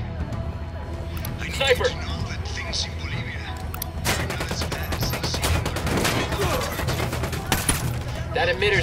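Gunfire in the Ghost Recon Wildlands shooter game: steady volleys of shots and bursts crackle throughout, growing denser midway, while people talk over the firing.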